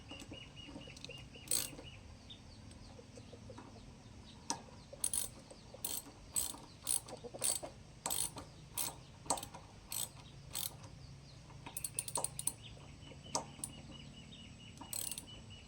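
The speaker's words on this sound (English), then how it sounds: "Let's tighten it up and see what happens. Set the spanner right." A spanner ratchets while tightening a nut during farm repairs, giving a long run of sharp, close metallic clicks in irregular bursts, with faint birdsong in the background and no talk.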